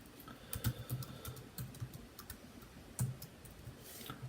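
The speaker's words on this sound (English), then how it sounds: "Here I'm just going to type in whatever," Soft, irregular keystrokes on a computer keyboard, quick clusters of clicks with brief pauses, close and fairly quiet with no voice over them.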